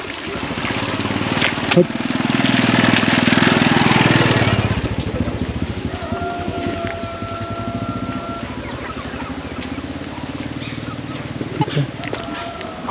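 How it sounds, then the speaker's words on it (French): A motorcycle on a road in northern Vietnam near Sapa swells in loudly as it approaches and passes close by, then fades away, with wind buffeting the microphone and people talking. "Il y a une moto qui arrive."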